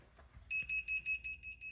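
A rapid run of about seven short, high electronic beeps, evenly spaced and fairly loud, from a heat press timer after a quiet moment.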